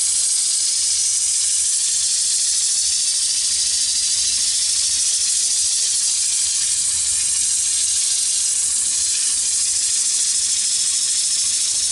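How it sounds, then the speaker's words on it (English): Sandpaper of 100 grit rubs against wet spalted hackberry wood spinning on a lathe, making a steady bright hiss that holds evenly with no talk. "now I'm going to sand with 100 grit"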